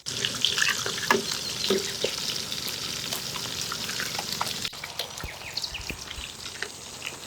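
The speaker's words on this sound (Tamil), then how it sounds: "மூளை பார்த்தீங்கன்னா அப்படியே எண்ணெயில் பொரிச்சிட்டு இருக்காங்க" Beef brain fries in hot oil in an outdoor village kitchen, with a dense, steady sizzle and crackle close by and occasional stirring scrapes throughout.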